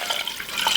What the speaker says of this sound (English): now I'm going to pour the 8 cups of broth into the soup to make this amazing base